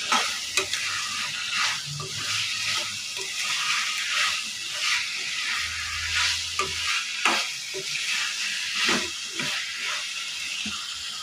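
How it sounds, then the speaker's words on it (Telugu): Broad bean pieces are stirred with tomato in a hot pan. A constant sizzle and hiss runs under repeated scraping and knocking from the spoon, loud and close throughout. "వేసుకొని ఇవన్నీ బాగా కలుపుకోవాలి."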